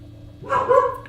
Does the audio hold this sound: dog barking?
yes